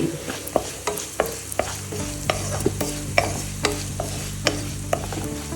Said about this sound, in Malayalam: മിക്സ് ചെയ്ത് കൊടുക്കാം.